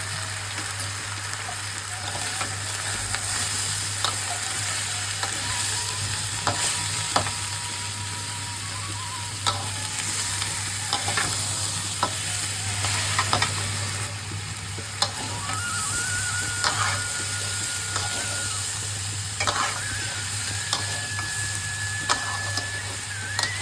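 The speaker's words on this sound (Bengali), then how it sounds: "এদিকে চাল আর ডালটা খুব ভালোভাবে ভাজা ভাজা হয়ে যাচ্ছে" Rice and lentils stir-fried in a kadai for cauliflower khichdi, with a steady scraping and stirring rasp and a soft sizzle under a constant low hum. No one speaks.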